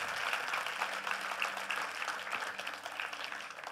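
A crowd claps steadily at a live Hindi speaking event, the applause dense and continuous, heard at a moderate distance with a faint low hum beneath it.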